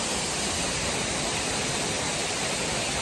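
Fiane waterfall pours in a constant, loud, broadband roar of rushing water, unbroken and steady throughout with no voices.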